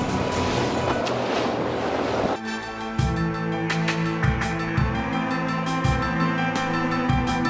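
Rough sea surges and wind roar around a small passenger boat in rain, a dense wash of waves that cuts sharply midway into steady engine drone with rhythmic slaps of water against the hull.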